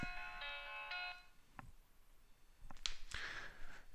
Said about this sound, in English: Sorry, a phone was ringing.